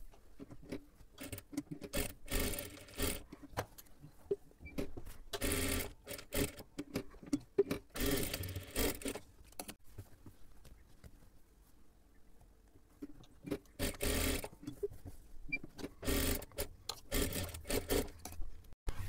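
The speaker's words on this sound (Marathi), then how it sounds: "डबल शिलाई मारून घ्यायची आहे." A sewing machine runs in several loud rapid bursts with pauses between, double-stitching a seam on a blouse at close range.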